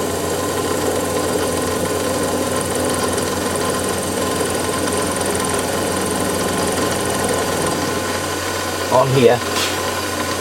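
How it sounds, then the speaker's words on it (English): A 3/8 inch milling cutter held in a 32 collet spot facing metal on a mill gives a steady, loud, continuous grinding whir with a faint high whine, holding even throughout before a brief voice and clunk near the end. "I'm just going to gently come in and spot face"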